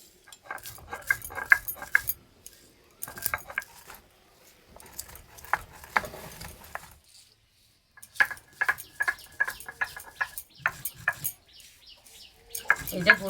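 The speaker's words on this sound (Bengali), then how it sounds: "এই যে গুঁড়ো করা হচ্ছে, যা সুন্দর গন্ধ বেরোচ্ছে" Cooled roasted spices are ground into a coarse powder: rhythmic, gritty scraping and knocking strokes come in close bursts, broken by short pauses.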